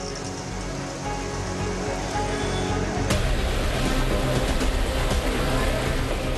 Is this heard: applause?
no